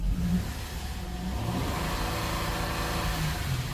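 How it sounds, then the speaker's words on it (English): A repaired 2009 car engine that had been running rough, stalling and vibrating now idles steadily with a smooth, even hum, close by, with a slight rise in revs near the start and no voices. "Runs good, idles good."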